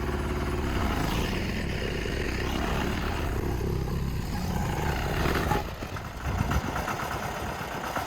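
A tractor engine runs steadily close by at a rumbling idle on a hillside shed-foundation site, its tone dropping and shifting near the end as the machine changes gear.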